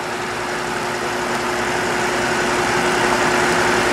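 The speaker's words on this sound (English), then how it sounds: "This is a wind machine, or should I say the aerospeed." An Aerospeed AC100 wind machine fan runs on its low setting, making a steady whooshing airflow with a constant low hum that grows slightly louder throughout. No one speaks.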